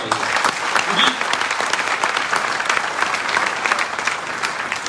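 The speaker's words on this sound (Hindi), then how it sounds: "जोरदार तालियां होनी चाहिए" An audience in a hall seating around 500 at a company CEO's event bursts into sustained, dense applause, loud and continuous for several seconds.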